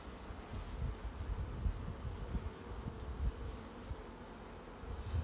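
Honey bees buzzing in a strong spring hive colony during an inspection, a dense, continuous hum of many wings, close and fairly soft, with no voices.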